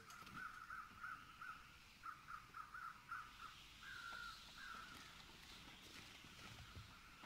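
A bird calls in the snowy survival video game The Long Dark, a string of short, faint caw-like notes repeating in quick bursts, then a longer drawn call, over quiet background ambience.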